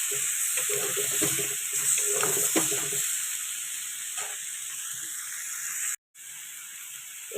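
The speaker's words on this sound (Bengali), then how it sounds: "এরপর দিলাম ধনে পাতা কুচি, দিয়ে ভালো করে নেড়ে চেড়ে নিচ্ছি।" A dish sizzling in a pan as it is stirred after chopped coriander leaves go in, with steady hissing and clattering stir strokes early on, then a brief gap of near silence before the sizzle resumes.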